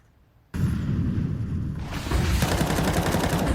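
Tec-9 pistol fire in Counter-Strike 2 during a competitive Inferno match, dense loud bursts of gunshots starting abruptly and continuing steadily, intensifying toward the end.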